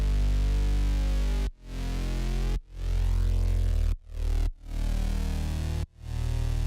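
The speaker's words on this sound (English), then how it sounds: "a bigger kind of detuned saw-like bass, which sounds like this." Big detuned saw-style synth bass from an electronic remix, thick and sustained with rich harmonics, sounding in long loud phrases broken by several abrupt short gaps, with no voices.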